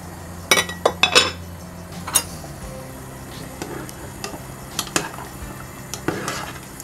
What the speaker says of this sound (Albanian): Do të përdor një lupë drurit për mos t'i coptuar qofte.